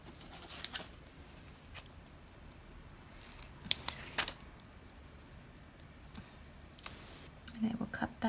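Scissors cut foam tape in half at a craft table, producing a few faint, brief snips and rustles in quiet surroundings.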